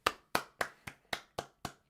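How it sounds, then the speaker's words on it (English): Slow, evenly spaced hand claps, about eight crisp sharp strikes in a steady rhythm, closely miked, like a lone person applauding during a game jam showcase. "Huge round of applause."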